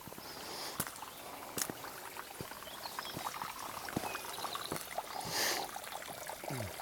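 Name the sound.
small babbling brook flowing under a stone bridge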